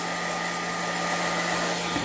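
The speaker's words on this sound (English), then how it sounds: "turn the hairdryer off again so you can hear me" Hair dryer blowing steadily on alcohol ink artwork, a constant close whooshing roar with a fixed motor hum, unbroken and with no talking.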